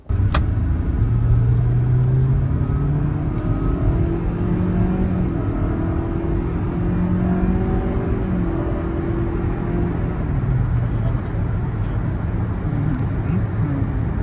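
A Kia Seltos with a 1.5 litre engine and IVT automatic accelerates from inside the cabin, a steady loud engine drone rising gently in pitch, with a low rumble of road noise throughout.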